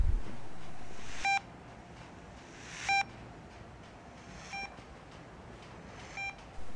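A tiny low-tech UHF tracker transmitter hung on a tree, received through an SDR dongle and phone, gives four short, evenly spaced electronic beeps about one and a half seconds apart over a steady hiss.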